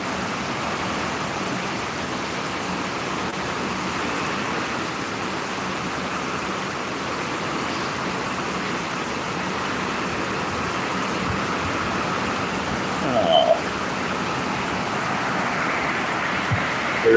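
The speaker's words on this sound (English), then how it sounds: "Watch it rain" Heavy rain pours outdoors in a steady, even hiss that never lets up, a broad, continuous wash of falling water, with a brief louder patter near the end.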